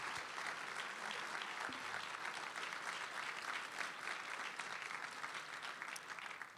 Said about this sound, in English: let's give a round of applause for our two speakers